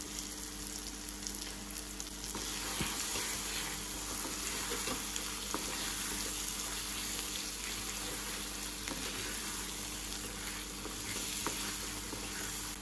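Paneer, onion and capsicum masala sizzling in a kadai over a low flame, a steady soft frying hiss throughout with occasional light crackles and stirring scrapes, no talking.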